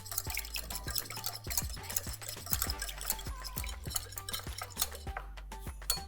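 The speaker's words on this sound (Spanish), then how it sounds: "Y ahora voy a batir." Ingredients for rosca de reyes dough being whisked in a bowl, with a fast, even run of light clicking and tapping strokes that are close and continuous, and no speech.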